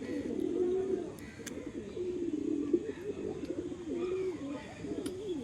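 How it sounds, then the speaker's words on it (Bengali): A red male pigeon, one of a breeding pair, coos in a steady, close series of low warbling phrases that runs the whole time, with faint background sounds and no talk. "দেখুন আরেকটা লাল ফুল পায়রা, এটাও একটা নর পায়রা"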